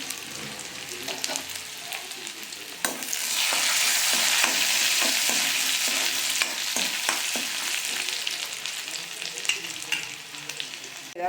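Half a small onion frying in a pan for a curry, with a steady close sizzle that swells louder after the first few seconds and occasional scraping stir strokes.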